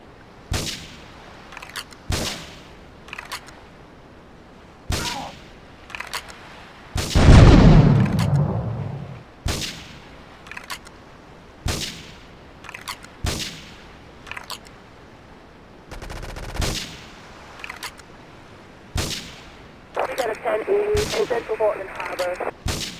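Gunfire in the video game GTA III around Portland Harbor: a slow string of sharp single shots spaced a second or two apart, one heavier blast midway, and a burst of chattering radio-like noise near the end.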